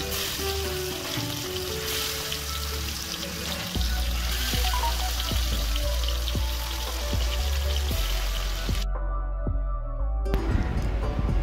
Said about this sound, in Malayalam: ഏകദേശം ആവണ വരെ നമുക്ക് ഫ്രൈ ചെയ്തെടുക്കാണ്